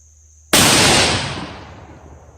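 A single rifle shot fired during a scope tracking test with a Leupold LRP 8.5-25 scope, a sharp loud crack that rings out and decays over about two seconds outdoors, with no talk.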